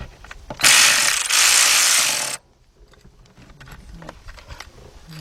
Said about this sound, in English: I'm gonna use an 8mm deep, same 3/8 drive ratchet.